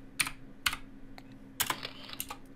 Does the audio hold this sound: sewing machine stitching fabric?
no